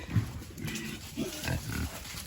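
Pigs in a farm pig pen give low grunts and snorts in a few short bursts, close by and fairly quiet.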